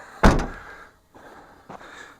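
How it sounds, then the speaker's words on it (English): A car door swings shut with one solid thunk, followed by a couple of softer knocks and rattles as it settles, close by and with no talk. "Closing the door."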